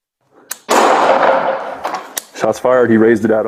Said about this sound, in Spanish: un oficial de la Policía Metropolitana descarga su arma con un solo disparo contra un individuo